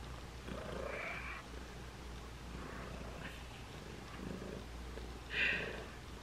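A house cat purrs softly and close by in a quiet room, a low steady rumble with a couple of brief brighter squeaks or chirps standing out over it.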